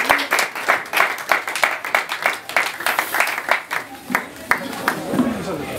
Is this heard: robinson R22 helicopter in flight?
no